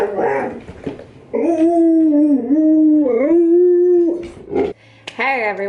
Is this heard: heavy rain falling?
no